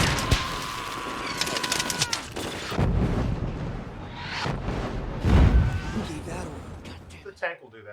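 Tank cannon fire and explosions from a war film boom and crash amid chaotic battle noise, with several heavy blasts and people shouting and talking over them.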